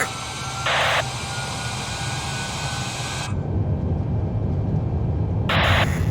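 A Qantas Boeing 787's jet engines roar steadily as they power up for takeoff, a loud broadband rush heard from inside the cabin, with brief electronic tones sounding twice over the noise.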